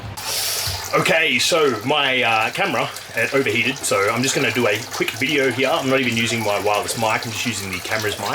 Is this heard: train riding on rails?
no